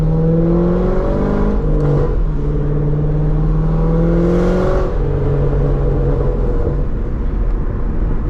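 A C6 Corvette Grand Sport with a loud aftermarket exhaust drones steadily while driving, its deep engine note rising and falling through gear changes, loud and close throughout with no talking.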